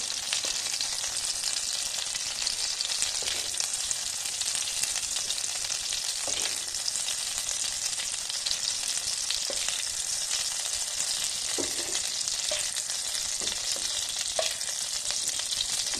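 Paneer frying in a pan, a bright continuous sizzle with occasional scraping stirs and light pops, close and steady throughout without any voice.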